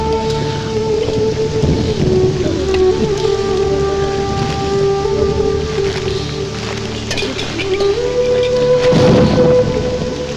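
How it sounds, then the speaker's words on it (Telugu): Heavy rain pours down in a steady dense wash with low rumbling undertones, loud and continuous throughout, while a sustained tonal hum sits underneath. "ఇప్పుడు అర్ధంతరగా ఈ వర్షం పట్టుకుంది"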